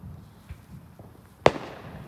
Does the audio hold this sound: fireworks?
yes